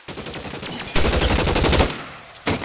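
Sustained rapid automatic gunfire in LA Noire, loud and close, followed by a pause and then one more short burst.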